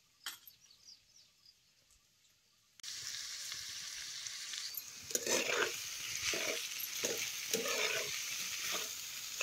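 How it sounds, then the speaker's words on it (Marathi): Finely chopped spinach drops into a hot pan and starts frying, a sudden loud sizzle after near silence, then steady hissing with rhythmic stirring scrapes close by, no talk. "बारीक चिरलेली पालक बी त्यात घालायची"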